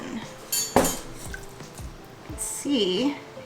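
Cold process lilac soap batter poured from a container into a pot, with short clinks and scrapes of utensils against the pot and brief pouring sounds, close and moderately loud, a voice speaking intermittently.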